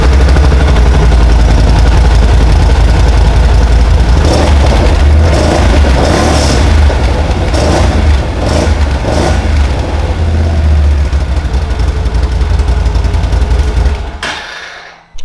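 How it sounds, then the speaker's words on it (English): A car engine with its factory exhaust runs steadily at idle in a garage with a deep, continuous exhaust rumble, close and loud, before cutting off near the end. "This way you can hear what the factory exhaust sounds like."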